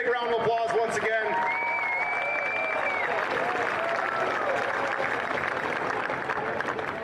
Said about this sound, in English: Let's give them both one big round of applause once again.